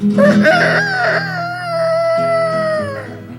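A human voice imitates a rooster crowing, one long sustained wavering call lasting about three seconds and falling in pitch toward the end, loud and alone, from a stage performance at a tribute concert.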